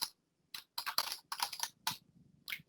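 Quick bursts of computer keyboard typing, several clustered runs of crisp key clicks with short pauses between them, close and fairly quiet.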